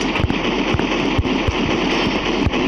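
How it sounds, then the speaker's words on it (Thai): Rapid bursts of gunfire in the video game Pixel Gun 3D rattle continuously over a dense, steady background, with sharp repeated shots spaced a fraction of a second apart. "แล้วเสียงปืน ใครมันรัวๆเลย"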